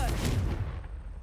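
Fiery Confringo spell blast cast in Hogwarts Legacy, a single loud booming burst that rolls off into a rumbling tail.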